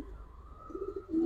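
A Chini Kaldam pigeon gives a brief, soft, throaty coo up close, with a quick rise at the end, and nothing else sounds.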